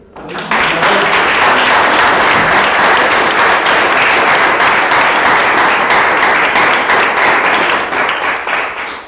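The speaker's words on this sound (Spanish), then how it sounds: "vamos a aplaudir" A room full of people applauds steadily for several seconds, dense clapping that stays loud throughout before tapering slightly at the end.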